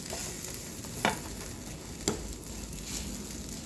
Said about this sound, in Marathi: आता आपण या साईडनं सुद्धा छान खमंग असं शिजवून घ्यायचं आहे